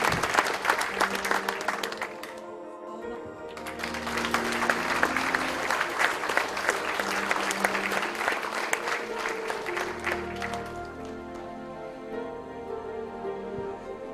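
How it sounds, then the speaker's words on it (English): A large audience applauds for Dr. Shiva after his talk at Infosys in Chennai, the clapping building into a dense, sustained ovation that holds steady before easing slightly toward the end. "please give it a big round of applause to Dr. Shiva"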